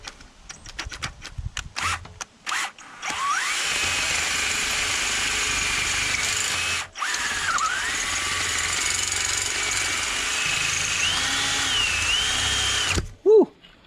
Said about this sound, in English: getting a drill near a new expensive part,